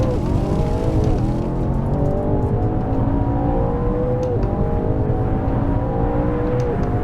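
Race car engine in the Assetto Corsa driving game, a loud continuous whine rising and falling through repeated gear shifts and revs, with occasional tire squeal, no voices.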